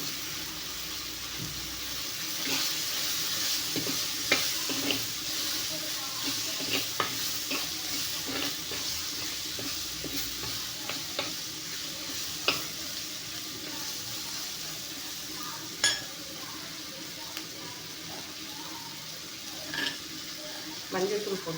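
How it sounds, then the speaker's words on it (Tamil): Curry leaves and chopped onion fry in hot oil in a pan, giving a steady broadband sizzle with scattered crackles and clinks of stirring throughout; no one speaks over it. "நம்ம அரிஞ்சு வச்சுருக்கிற வெங்காயமும் போட்டுடலாங்க எல்லாமே"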